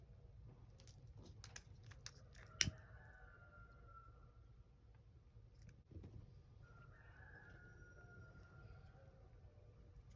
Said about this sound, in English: The roosters are just going.